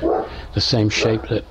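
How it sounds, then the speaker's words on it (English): A dog barks a few quick, sharp times close by, the barks overlapping with someone talking. "that's my dog barking."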